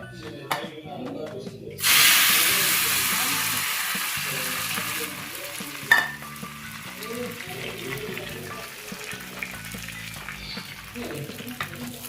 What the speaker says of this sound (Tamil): ஒரு பாத்திரத்தில் 3 ஸ்பூன் எண்ணெய் விட்டு கொஞ்சமாக கடுகு போட்டுக்கோங்க